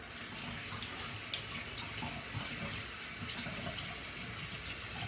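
Hands being washed under a running kitchen tap, giving a steady, close hiss of flowing water with faint splashing throughout and no talking.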